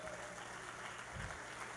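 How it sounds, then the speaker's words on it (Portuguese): A church congregation claps briefly, a soft, steady patter of applause under a faint murmur of voices during a Portuguese-language service. "Você pode aplaudir a Jesus pela vida dela?"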